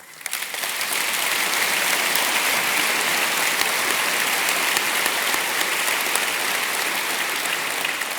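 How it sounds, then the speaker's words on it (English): Loud, dense applause from a large audience at a live on-stage evening event, building quickly and continuing evenly for several seconds without pause. "he does deserve a special round of applause"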